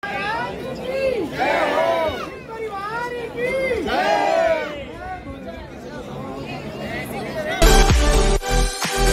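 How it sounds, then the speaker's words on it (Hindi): A large crowd of pilgrims gathers at Kedarnath on the yatra, with chatter underneath someone talking close by. A louder burst of crowd noise swells near the end. "भीड़ देख सकते हो भाई आप, बहुत तगड़ी भीड़ है।"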